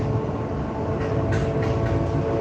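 Steady rumble of a train ride at night in Moscow, a continuous loud low roar with faint rattling and clacks over it, no talk.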